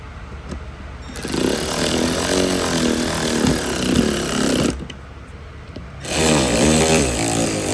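Power screwdriver driving screws into a rear bumper reflector on a 2021-2026 Chevrolet Tahoe, two sustained loud whirring bursts with a brief pause between, close up and without talk.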